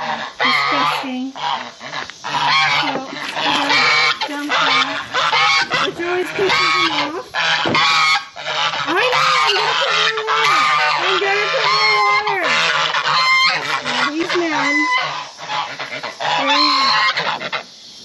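Geese on a farm honk loudly and almost continuously, a dense chorus of harsh nasal calls close by.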